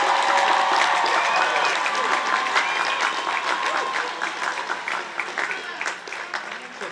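Sustained applause from a large audience at a Delaware State University 2023 undergraduate commencement ceremony, loud and dense at first, then thinning into scattered claps with some crowd voices mixed in.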